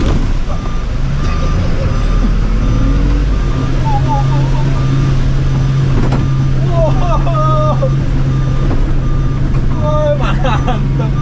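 A Mercedes-Benz truck pulls along in second gear with a steady, loud diesel drone close by, while reversing-style beeps chirp in short bursts and people talk over the engine.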